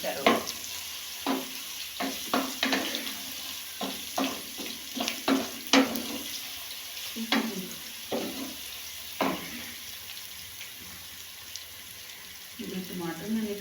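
Tomato, onion, garlic and ginger masala frying in a pot with a spoon scraping and stirring, irregular clacks and bursts of sizzle over a quiet background, a brief louder sizzle at the end.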